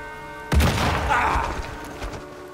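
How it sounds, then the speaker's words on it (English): A sudden deep boom of an explosion in the Sniper Elite 5 video game bursts in and rolls on with a rumbling, crackling tail under faint game background tones. "Explosion heard, you better get in here."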